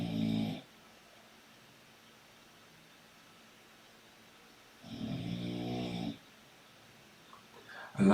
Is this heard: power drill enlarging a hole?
no